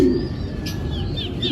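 Racing pigeons coo softly and chirp nearby against a steady background hum, with a few brief bird calls over a short stretch.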